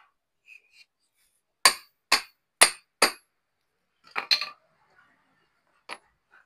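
A bearing being hammered out of a marble cutter machine, four sharp metallic hammer strikes in a steady rhythm, then a short cluster of clinks and one last tap, close and otherwise quiet.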